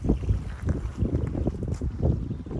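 Southwesterly wind blows across an Irish reservoir on a morning fishing trip, buffeting the microphone in steady low gusts with faint water sounds, no talking.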